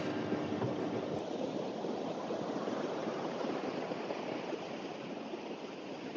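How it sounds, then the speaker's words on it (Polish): Ocean waves at Guilderton beach near Perth make a steady, soft rushing hiss of surf, continuous and fairly distant, with no voices. "Słyszycie szum tego oceanu?"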